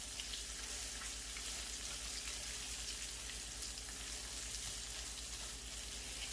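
Thai red curry paste with shrimp paste frying in a pan, a steady dense sizzle close by that stays even throughout, no talking.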